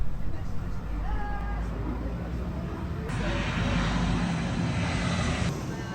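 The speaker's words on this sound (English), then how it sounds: "We were even lucky enough to see a plane landing as we were crossing to the Gulf Island." A landing propeller airplane drones loudly and steadily, heard while crossing to the Gulf Island near Hamilton Island, its engine noise swelling slightly in the second half, with wind and motion noise underneath.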